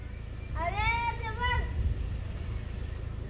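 A single drawn-out cat meow rises and falls over a low rumbling background.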